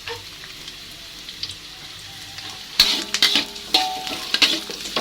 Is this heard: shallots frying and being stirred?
yes